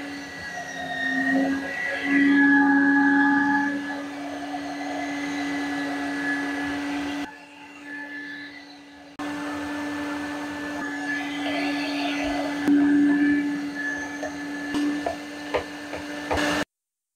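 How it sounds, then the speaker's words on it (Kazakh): A meat grinder forces chunks of bread and onion through for mince, a steady motor whine with a strong low hum and shifting grinding noise, loud and close, with a brief quieter pause midway. "Ет тартқыштан пиязымызды да өткізіп алдық."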